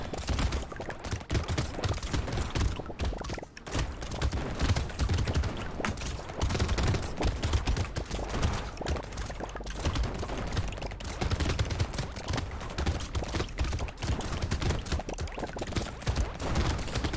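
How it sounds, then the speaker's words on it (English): Dense video game gunfire rattles without pause, rapid overlapping shots and flying bullets forming a loud continuous barrage with no talking. "there's so many bullets flying around, it's actually hard to find enemies sometimes"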